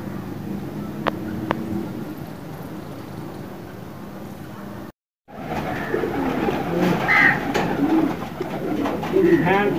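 Pigeons coo softly in repeated low calls, with a brief break midway and street background noise around them.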